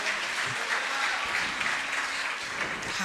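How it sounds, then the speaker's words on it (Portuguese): A church congregation applauds in worship, a dense wash of clapping throughout the short stretch with faint voices underneath. "Pode aplaudir o Senhor."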